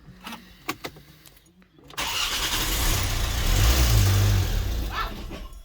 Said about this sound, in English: we're going to try and crank it over and see what happens.